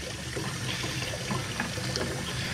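Rinse water drains from a pot of sushi rice, a continuous close trickling and splashing pour that stays steady throughout.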